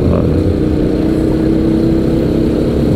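A tricycle's engine drones past on a road, a loud, continuous mid-pitched motor rumble that stays steady throughout.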